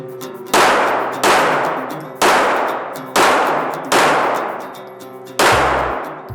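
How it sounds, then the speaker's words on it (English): Six gunshots ring out at a shooting range, each striking a steel target with a sharp, loud metallic clang that rings and fades before the next, spaced roughly a second apart. "Just shoot that left one 6 times"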